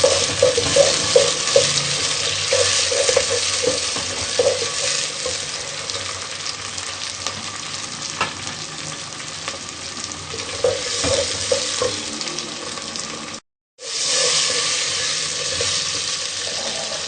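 Onions browning with tomatoes for a mixed vegetable sabzi, a loud continuous frying sizzle with scraping stirs and clatters throughout, a brief silent gap near the end before the sizzle resumes.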